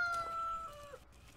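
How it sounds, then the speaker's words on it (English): A rooster crows in the video game Force of Nature, a single drawn-out call held steady and then sliding down at the end, fairly clear over quiet game ambience with no talking. "That rooster's going absolutely mad."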